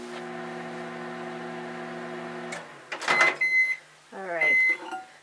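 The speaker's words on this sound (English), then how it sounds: "We actually throw it right in the microwave." A small microwave oven runs with a steady tonal hum for goat's milk soap base, then stops, followed by a few brief beeps.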